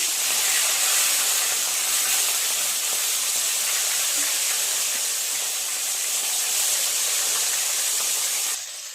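Katla fish frying in hot oil in a kadai gives a loud, unbroken hiss of sizzling close by, steady from start to finish with no talk.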